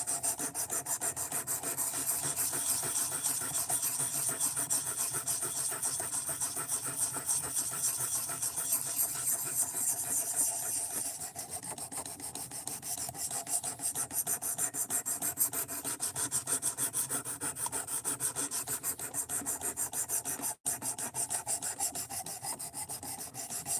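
Steel knife blade sharpened by hand on a stone, producing a continuous rhythmic rasping and rubbing with fast repeated strokes, close and steady, with no talking.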